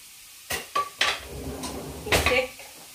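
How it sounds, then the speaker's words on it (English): Bacon goes into a pan on high heat with several close clattering knocks of metal utensils and pan, followed by a soft sizzling hiss underneath. "So we're going to fry off the bacon."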